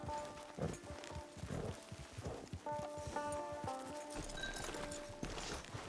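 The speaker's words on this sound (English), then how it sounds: "Get your horse." Horse hooves clip-clopping in the video game Red Dead Redemption 2 Online, a steady walking rhythm of hoof strikes over a busy ambient background with faint tonal sounds and occasional rattles.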